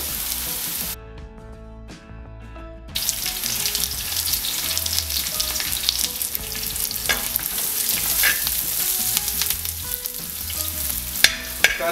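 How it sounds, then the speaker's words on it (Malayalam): Curry leaves frying in oil with ginger, green chilli, garlic and onion for a chicken curry: steady, close crackling sizzle with scraping stirs, a brief quieter stretch, then a louder pop and spit as the leaves hit the pan. "ഇഞ്ചിയും പച്ചമുളകും വെളുത്തുള്ളിയും ഉള്ളിയൊക്കെ ഇങ്ങനെ വാടി വരുന്ന സമയത്ത് 1 തണ്ട് കറിവേപ്പില ഇട്ട് കൊടുക്കണം"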